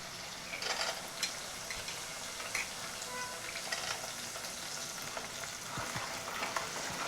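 Peanuts with onion frying in hot tempering oil for a Khandeshi masala khichdi, a steady close sizzle with scattered crackles and a few stirring scrapes, no voices.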